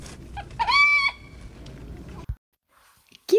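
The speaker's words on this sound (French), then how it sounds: "Et voici maman poule." A hen calls out with a loud, drawn-out tonal cluck, then fades into quiet. A brief chicken sound returns at the end, close and clear against near silence.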